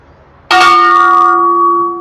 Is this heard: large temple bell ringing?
yes